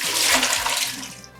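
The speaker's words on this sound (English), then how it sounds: "So you want to strain all of your noodles." Water drains as soaked rice noodles for lobster pad thai are strained, a loud continuous hissing splash rushing steadily and tapering slightly at the end.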